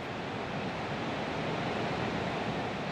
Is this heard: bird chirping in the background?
no